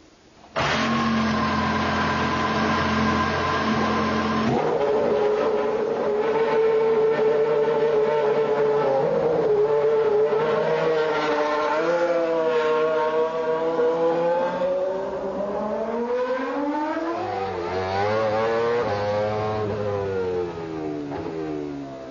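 A 1999 Formula One car at Silverstone screams out of the narrow pit lane exit, its loud high-revving engine climbing through rapid gear changes in a sustained onboard roar.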